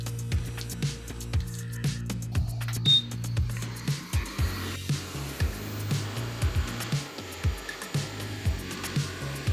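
A heat gun blows hot air onto a part from a faulty karaoke microphone, a steady low blowing hum with small rhythmic clicks and handling knocks over it, close and continuous.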